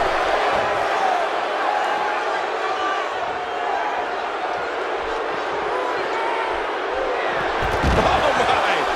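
A fired-up wrestling arena crowd in the WWE 2K17 video game roars steadily throughout a Roadblock 2016 simulation match, with a louder swell and impact near the end, under a commentator's voice.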